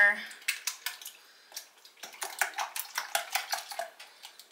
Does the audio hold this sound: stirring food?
yes